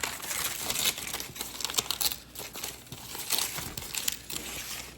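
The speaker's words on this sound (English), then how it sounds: "so we're going to go ahead and take off this excess paper." Excess paper being torn and pulled away from around the edges of a framed floral intaglio print, a dense crinkling, ripping rustle with irregular bursts, close and continuous with no talking.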